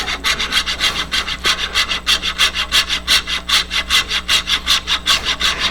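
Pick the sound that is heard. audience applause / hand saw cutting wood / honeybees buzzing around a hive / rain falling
hand saw cutting wood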